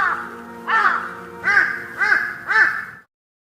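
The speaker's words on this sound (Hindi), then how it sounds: "चिड़ियों की चहचहाहट खेतों के ऊपर गूंज रही थी।" Crows cawing over open fields, a series of about five loud, harsh caws spaced roughly half a second apart, close and clear with no other sound.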